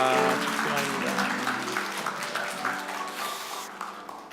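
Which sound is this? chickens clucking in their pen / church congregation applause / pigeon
church congregation applause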